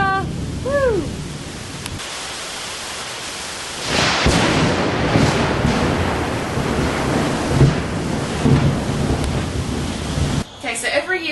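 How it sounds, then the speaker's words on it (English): A nighttime thunderstorm in Florida, with steady heavy rain hissing throughout and a broad rumble of thunder swelling near the start and rolling on; brief whistling or voice-like sounds open the clip. "Thunder and lightning storm in Florida!"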